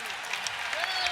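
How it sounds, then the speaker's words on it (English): A Memphis basketball crowd applauds a hustle play during an NBA game between the Grizzlies and the Kings, with distant clapping and cheering and a commentator talking over it. "this Memphis crowd appreciating the hustle there"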